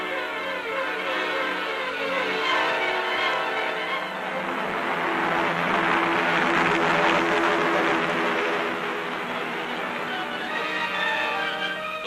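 Large United States military transport planes in flight in 1943, a continuous loud propeller-engine drone that swells gently and holds steady throughout.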